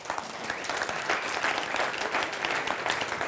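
A crowd of audience members claps steadily and continuously, a broad even roll of applause at moderate level with no talking over it.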